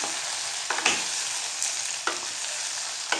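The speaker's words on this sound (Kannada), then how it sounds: "ಸ್ವಲ್ಪ ಹೊತ್ತು ಫ್ರೈ ಮಾಡಬೇಕು ಇದನ್ನು" Food frying in hot oil for chapati, a close, steady sizzle with a few sharp stirring scrapes and spatters against the pan.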